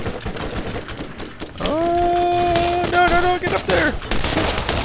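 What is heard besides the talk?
gunfire in the video game Borderlands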